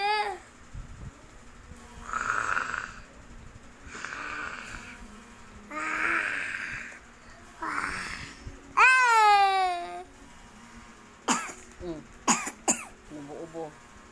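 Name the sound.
coughing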